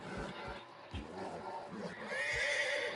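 A horse in the video game Red Dead Redemption 2 whinnies with a rising neigh over hoof thuds and faint game ambience, moderately close.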